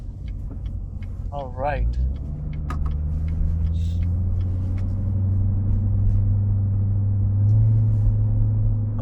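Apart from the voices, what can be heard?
Corvette Z06 C7 engine while driving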